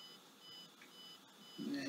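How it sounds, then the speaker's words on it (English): A retro computer card deck beeps with faint, thin, high electronic tones that repeat at a steady, regular pace over a low background hum, with a brief rustle near the end. "You can see it's beeping."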